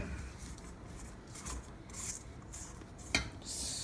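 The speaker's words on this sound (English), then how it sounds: "Scrape it all out of there." A utensil scrapes chocolate soufflé mixture out of a bowl in a series of soft, uneven rubbing strokes. One sharper clink near the end stands out, and the scraping stays close and fairly quiet with no talking.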